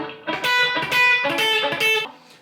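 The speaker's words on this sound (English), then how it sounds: "This is what we call chicken picking." Country guitar chicken picking, a pick and fingers plucking together, gives a run of snappy, twangy plucked notes in bright bursts, close and fairly loud with no talking.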